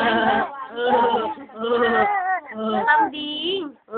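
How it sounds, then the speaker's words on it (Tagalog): A goat bleats close by in a series of loud, wavering cries with short pauses between them, about four or five calls over a few seconds. "Kambing ba yan?"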